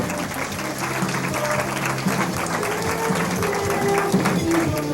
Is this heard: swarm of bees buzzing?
no